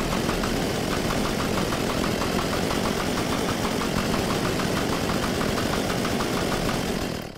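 A vehicle engine idles in the video game Unturned, a steady mid-pitched rumble with a fast, even knocking pulse that holds unchanged before cutting off at the very end.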